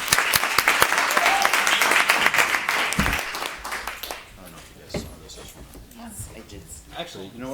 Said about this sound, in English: So round of applause for Sammy,